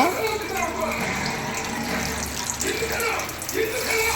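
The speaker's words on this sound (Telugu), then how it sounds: "1 లీటర్ పాలు పోసేయాలండి" Steady flowing pour of a litre of milk into a pot, a continuous liquid splash and trickle at moderate level throughout.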